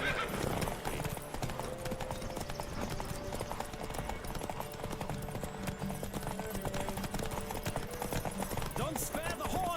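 A horse gallops in The Witcher 3 video game, its clip-clop hoofbeats running in a fast, steady rhythm throughout, with occasional neighs and whinnies and a constant wash of game ambience underneath.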